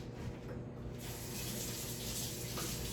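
Water runs steadily from a kitchen tap during a quick rinse while cooking, a continuous broadband gush that holds constant from start to finish with no talk over it.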